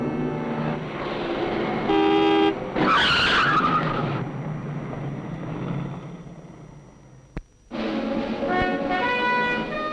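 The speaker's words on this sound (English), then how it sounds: "Its symbol of prestige, the high-powered automobile." A high-powered automobile sounds loud, sustained horn-like tones, then a sharp screeching tire squeal, a brief lull with a single click, and another burst of loud tonal blaring.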